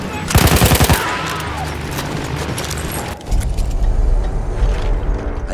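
A mounted machine gun fires in the video game Battlefield 1, a loud, rapid burst of close shots early on, followed by rumbling battlefield noise and further distant gunfire.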